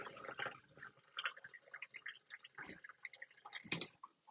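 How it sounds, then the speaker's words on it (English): Water trickles into a glass in a home kitchen, a faint, uneven splashing and dripping that carries on for several seconds with no one speaking. "Gotta get some water."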